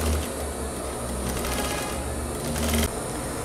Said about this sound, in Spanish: Y vamos cosiendo por todo el orillo de la entretela.